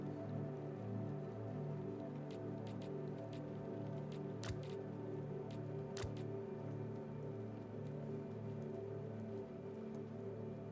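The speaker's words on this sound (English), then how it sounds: "The fire is growing despite the rain." Game rain in Dispatch at a flooded pileup scene with a tanker fire, a quiet steady patter layered over low droning tones, broken by a few sharp brief clicks and ticks, with no one speaking.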